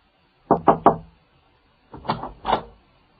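Three quick knocks on an office door, a pause, then two or three more knocks, close and fairly loud in a quiet room.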